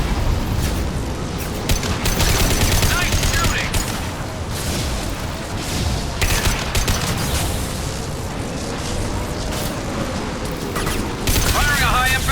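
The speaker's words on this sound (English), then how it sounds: "Firing a high-impact shot!" Heavy gunfire in Mass Effect 2 during the Lair of the Shadow Broker mission, with dense loud bursts and booming shots over a busy battle din, continuous and close.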